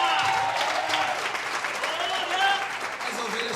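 A church crowd claps steadily and enthusiastically at an anniversary celebration, a dense wash of applause that carries on throughout with a few voices mixed in.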